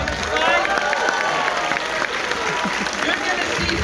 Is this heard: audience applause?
yes